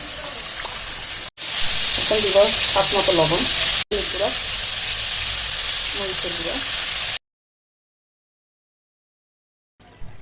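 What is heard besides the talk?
frying ground sesame paste and garlic in a pan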